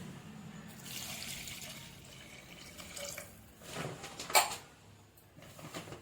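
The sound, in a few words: pouring a glass of water into a mixture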